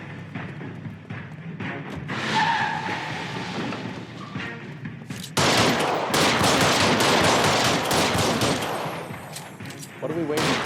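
A robbery scene in L.A. Noire erupts into a loud, dense exchange of gunfire about halfway through, after a calmer stretch of background noise and muffled voices.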